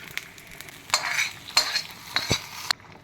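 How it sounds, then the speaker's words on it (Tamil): Hot tempering sizzles as it is poured into murungakkai (drumstick) sambar, with a few bursts of crackling and stirring over a quiet background and no voices. "பாருங்கள், சாம்பாருக்குள்ளே தாளிப்பு போட்டுட்டேன் நான்."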